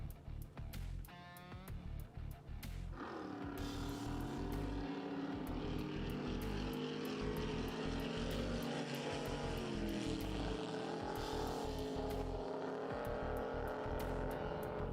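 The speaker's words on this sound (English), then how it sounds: "you can hear Jason Gothard playing the throttle game down there" A drag boat engine at a drag boat nationals race roars loudly and steadily, with sharp throttle blips and revs rising and falling across the span, heard alone without talk.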